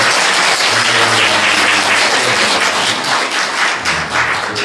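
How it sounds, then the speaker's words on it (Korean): A congregation at a Sunday church service claps to welcome visiting guests, producing loud, continuous crowd applause with a few heavier thumps, sustained for several seconds with almost no talking. "우리 박수로 한번 환영하겠습니다"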